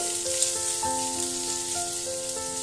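Potatoes sizzle steadily in hot oil over a gas flame, a soft continuous crackle of frying at close range, with no voices.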